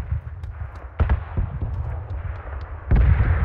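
Gunshots fired close by at a shooting session, sharp loud reports at uneven intervals over a steady low outdoor rumble, with a heavier blast near the end.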